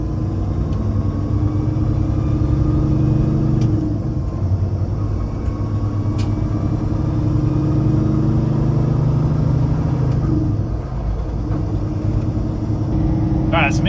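A green, stretched Peterbilt truck on a road test drive, its engine giving a steady, loud, deep rumble throughout with muffled voices underneath.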